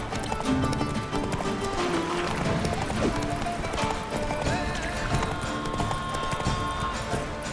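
A horse gallops in The Witcher 3 video game, with fast rhythmic hoofbeats pounding continuously beneath dense game ambience and music, loud and close throughout.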